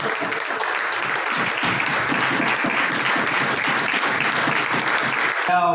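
Sustained applause from the audience at a BSNL employees' Ambedkar Jayanti celebration in Meerut, dense steady clapping throughout at constant loudness, with no speech over it.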